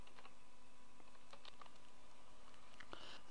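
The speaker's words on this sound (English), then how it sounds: "you type in your default gateway" Quiet clicking of computer keyboard keys, a short burst of scattered taps close by, with faint hum in the background and no voices.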